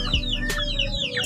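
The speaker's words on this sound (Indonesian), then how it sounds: "Oh iya, di sini tuh ada ayam." Village chickens on a free-range kampung chicken farm cluck in a quick, close burst of short calls, with no talk over them.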